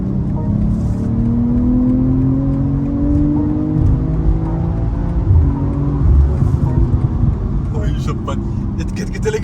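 A car's engine revs in sport mode, its tone climbing and swelling loudly from close by, with a person talking over the engine noise.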